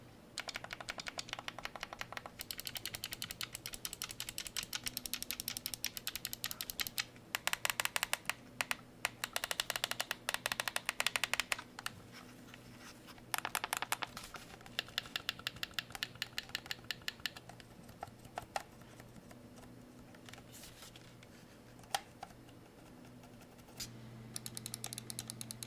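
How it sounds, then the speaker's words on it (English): Button clicks on a Flydigi Vader 3 Pro game controller, sharp plastic clicks pressed in quick bursts and runs with short pauses between, close and fairly quiet over a steady low hum. "Have a listen to the buttons, as this may be a determining purchase factor for you."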